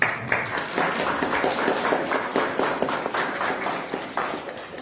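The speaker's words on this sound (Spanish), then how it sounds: "un aplauso por favor también" A seated audience at a journalism forum on human rights and gender claps steadily for several seconds, a dense, even patter of many hands heard alone at moderate loudness.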